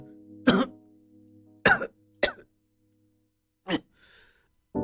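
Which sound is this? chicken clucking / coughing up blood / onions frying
coughing up blood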